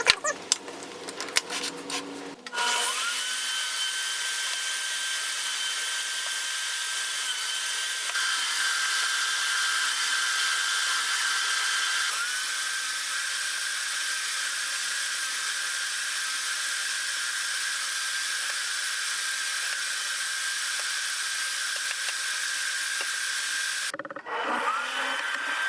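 A power tool whines steadily for over twenty seconds as it cuts grooves into a wooden table leg, with a sustained high, even tone after a few brief clattering handling sounds at the start and end.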